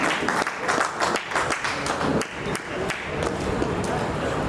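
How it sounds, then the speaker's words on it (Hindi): Loud audience applause greets a guest being honoured at a school alumni meet, dense clapping filling the room with a few sharper claps standing out and some voices mixed in. "जोरदार तालियों के साथ शिवाजी सर का स्वागत करते हैं।"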